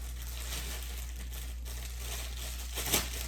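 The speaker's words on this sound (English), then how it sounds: "I don't mind the crinkling, but I know a lot of people hate it." Plastic packaging crinkles steadily around a resin bangle mold as it is pulled free, a soft continuous rustle that swells into a brief louder crackle near the end.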